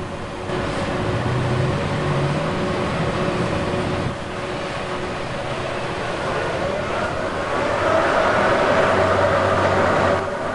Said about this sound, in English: Now he started driving the pile.